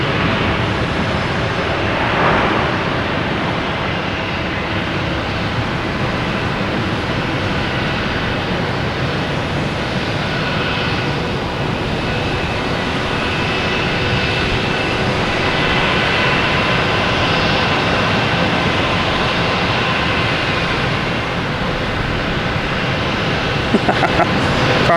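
A Delta airliner at Boston Logan Airport produces a sustained, fairly loud jet engine roar with a soft whine riding over it, continuous and without voices.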